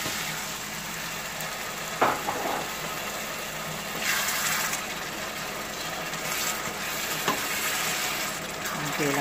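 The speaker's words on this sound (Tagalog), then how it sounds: "Lagyan po natin ng konting tubig." Water is poured into a pan of cooking tomatoes, bringing bursts of splashing and sizzling over a steady frying hiss, with stirring sounds and a few brief knocks.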